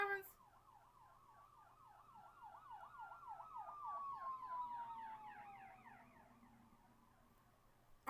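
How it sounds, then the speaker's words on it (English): A wailing emergency siren sweeps up and down repeatedly, moderately distant, with a second rising-falling tone layered over it, fading slightly toward the end. "Damn, more sirens."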